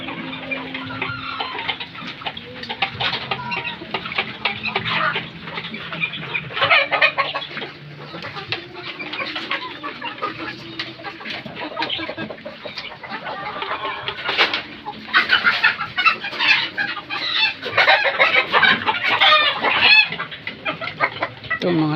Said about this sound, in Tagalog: Ito mga sisiw, mga babae.